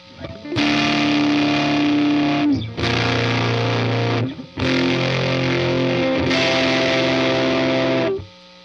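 Electric guitar played through a Fuzz Factory pedal into a Donner Arena 2000 multi-effects unit, heavily distorted sustained chords ringing out in four loud blocks with brief gaps between them.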